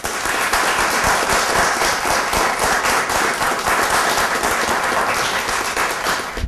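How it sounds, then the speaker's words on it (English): Outdoor crowd applause for community partners at a smoke alarm project event, a steady loud clapping from many hands with sharp individual claps standing out, sustained throughout. "join me in a round of applause for our community partners."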